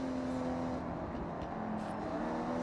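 Race car engine in the Forza Horizon 6 racing game, a steady droning hum with a sustained tonal whine running loudly and continuously throughout, with no talk.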